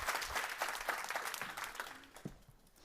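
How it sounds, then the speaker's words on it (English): A conference audience at the Nordic Female Investor Meetup 2021 gives a warm round of applause for a speaker. Dense, close clapping fills most of the moment before thinning out and fading toward the end. "Give a warm round of applause for Tatiana Amaya Vanegas"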